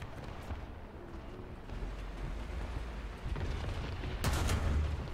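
A deep tank cannon boom in the video game War Thunder bursts out near the end over a constant low engine rumble, with a fainter thud a moment earlier.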